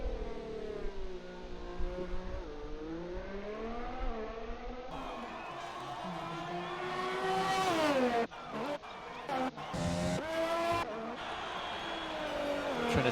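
A race car engine at Suzuka in a racing video game revs and drops through its gears, with rising and falling pitch sweeps and brief cuts as it shifts, at moderate level and with no talking.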